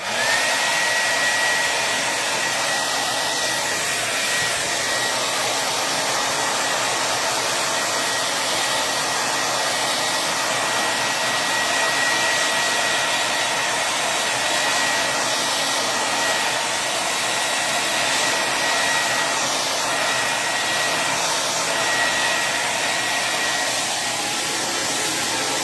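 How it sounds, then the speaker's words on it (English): A hair dryer blows continuously to dry paint on a craft project, a loud, steady whooshing hum that runs unbroken and close throughout, with no talking. "Blow dry really quick."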